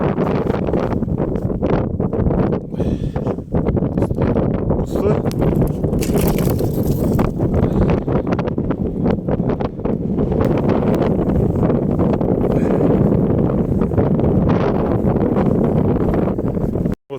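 Wind buffets a microphone out on the ice during winter fishing in frost and blizzard, a loud, steady roar with gusty rustling throughout the whole stretch.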